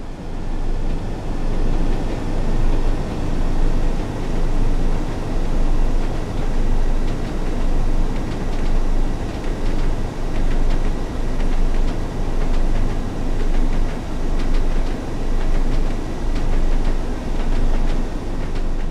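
A Class 101 diesel mechanical multiple unit train in the Train Sim World video game runs steadily with a loud, continuous engine rumble and faint rhythmic clicks of wheels on the track.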